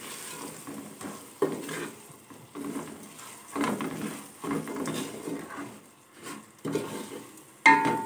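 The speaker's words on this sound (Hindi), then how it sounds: "इनको अच्छी तरह भून लेंगे पहले मसालों को" Dry spices, chillies, turmeric and salt roasting with garlic and ginger in a pan for a mixed vegetable pickle. A spoon stirs and scrapes in uneven strokes over a soft sizzle, with no talk.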